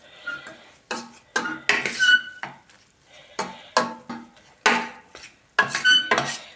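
A metal spoon stirs and scrapes flour halva in a pan, giving a run of distinct clinks and scrapes in irregular bursts, close and clear, with no talking.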